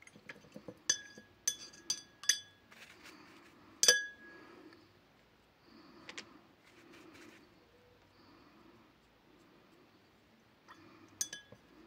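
A paintbrush is rinsed in a glass of water while painting with gold paint. Several sharp clinks of the brush against the glass come in quick succession, with a louder clink near the middle and one more at the end, over quiet swishing.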